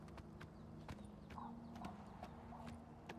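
Horse hooves clip-clop at a steady walking rhythm in Oblivion Remastered, a game world, over a low droning hum, close and distinct.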